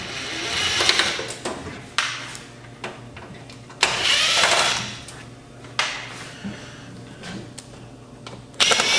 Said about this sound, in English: I'll be using my impact driver because in the screwdriver mode, there's a lot of screws I'll need to take out